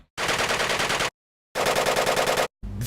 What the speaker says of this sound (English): The third layer was to simulate the noise from the weapon, so it's a very metallic sound